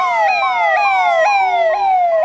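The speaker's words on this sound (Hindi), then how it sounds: "देखिए हमारे पीछे से एम्बुलेंस आ रही" An ambulance siren wails loud and close, its rising and falling tone repeating about every half second as it moves through a dense crowd at the Maha Kumbh festival.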